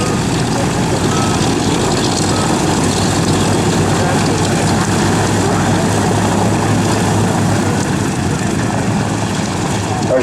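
A C-47 transport aircraft taxiing out at a World War II Weekend airshow, its piston engines and propellers making a loud, steady broadband drone that holds unbroken throughout with no talk over it.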